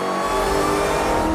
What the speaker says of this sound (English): The driver taps the dyno tab and begins to accelerate.